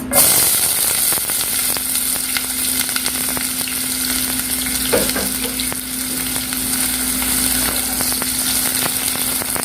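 Onions fry in ghee in a pan for mutter chicken. A loud, constant sizzle runs throughout, with an occasional soft stir partway through and no voices.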